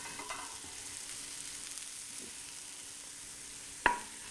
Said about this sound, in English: I just like to sweat the onion and leek a little bit, coat them in the extra virgin Greek olive oil